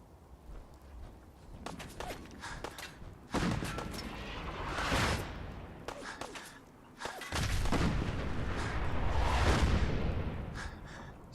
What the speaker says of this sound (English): So we're going to get a lot of artillery coming through.